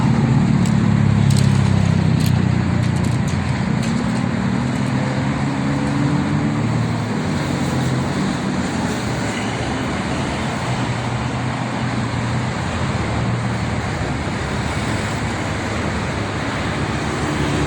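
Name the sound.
heavy traffic jam on Jakarta-Cikampek toll road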